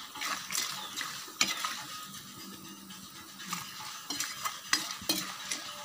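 Garlic sautéed over high heat in a pan gives a soft, continuous sizzle, with sharp scrapes and clinks of a utensil stirring against the pan at irregular intervals.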